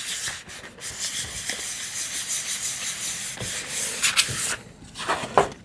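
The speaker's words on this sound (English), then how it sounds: "We can just sand the surfaces real quick." Rough, steady rubbing of sandpaper across the surfaces of a model rocket's fins, a Draco BG kit, close and continuous for several seconds with a few sharper strokes near the end.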